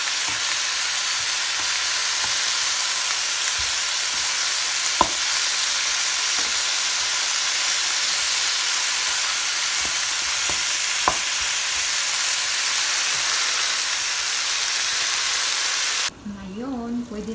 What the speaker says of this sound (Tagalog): I-fry natin ang ating chicken na maging brown.